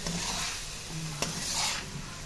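Beef, hot dog and mushrooms sauté in a pan as a base for creamy lasagna, giving a steady close sizzle with scraping stirring strokes and a sharp clink of a utensil against the pan.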